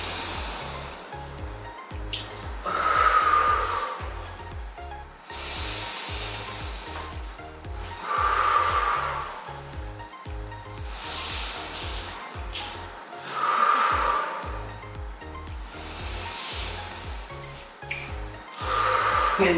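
Slow, deep breathing during a pelvic floor relaxation exercise, long airy inhales and exhales repeating every few seconds over a steady low background hum, close and fairly loud.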